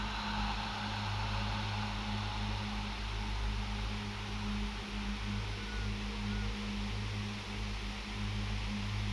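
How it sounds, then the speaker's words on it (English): A long ujjayi yoga exhale made with a slight constriction at the back of the throat, giving a steady, soft, ocean-like hiss that holds evenly for several seconds with no talking. "we're just going to add a slight constriction in the back of the throat to make that ocean wave or"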